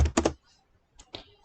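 Someone types a search on a computer keyboard, giving a short cluster of close key clicks, a quiet gap, then a few more scattered taps, with no talking.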